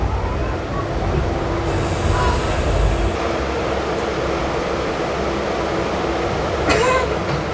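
Interior of a moving passenger train travelling from Kottayam toward Kollam, a constant loud rumble of wheels on rails with occasional brief squeals and clacks.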